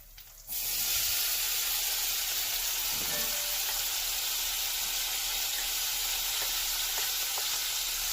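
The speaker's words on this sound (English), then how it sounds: "what I'm gonna do now is put in the peppers and the onions" Peppers and onions hit a hot pan for arroz con gandules, a sudden loud burst of sizzling that settles into a steady dense hiss, with faint stirring scrapes along the way.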